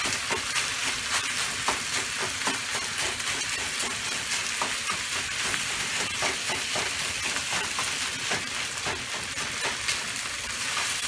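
A mixture of sausage, eggs, onion and bacon fries for fried rice, crackling in a steady sizzle with frequent stirring scrapes and pops, close and continuous.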